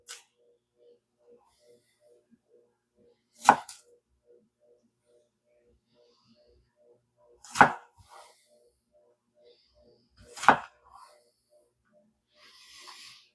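Knife dicing red onion on a cutting board: three sharp, isolated chops spaced a few seconds apart, close and fairly loud against near silence.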